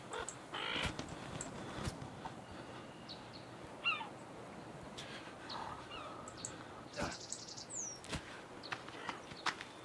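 Crows cawing in the survival video game The Forest, several harsh calls scattered over a steady outdoor ambient hiss, some near and some farther off, with no talking.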